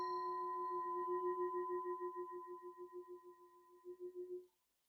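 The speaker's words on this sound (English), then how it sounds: "sounds a bit like a typical relaxation kind of sound" A soft relaxation chime marking the end of a mindfulness exercise rings out alone as one sustained, pure tone with a gentle pulsing shimmer that slowly fades before cutting off.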